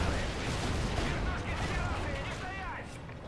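Machine gun fire in Call of Duty: Ghosts crackles continuously over loud background rumble, rapid shots blending together, with a few faint electronic chirps near the end.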